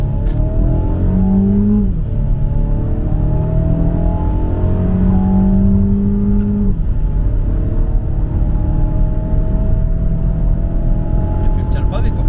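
A Mercedes A200 AMG-Line downshifts, its engine note stepping down through falling tones under a steady loud road rumble, with a few faint pops at the end.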